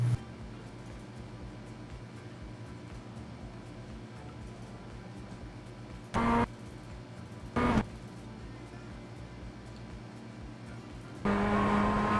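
Race cars on track in a student racing session on the final corner of lap 7, a steady engine drone throughout with two short louder bursts of cars passing close by and a rising engine note near the end.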